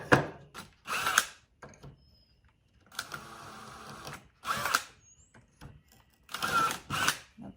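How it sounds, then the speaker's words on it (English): A drill pre-drills holes for mounting a tool organizer, firing in short repeated bursts of whirring separated by pauses, close and fairly loud. "Pre-drill my holes."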